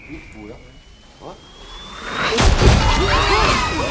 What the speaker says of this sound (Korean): 엄청난 폭발음과 함께 뭔가가 창문을 부수고 들어왔죠.